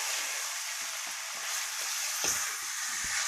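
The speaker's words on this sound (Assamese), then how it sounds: "এনেকৈ মই অকণমান দেৰি ভাজি ইয়াত এনেকৈ সিজিবলৈ দিওঁ" Meat fries in oil in a pan with a close, steady, crackling sizzle that runs unbroken until it cuts off abruptly at the end.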